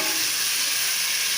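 Green chili and tomato paste frying with browned onion, garlic and ginger for dal mash dumplings, a steady close sizzle and hiss that runs unbroken, with no voices.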